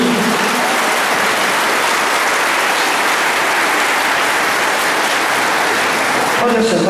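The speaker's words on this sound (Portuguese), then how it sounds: "Eu gostaria que nós dessemos uma salva de palmas para Ele." Dense, steady audience applause fills the room at a mayoral inauguration ceremony, loud and continuous with no pauses, fading slightly at the very end.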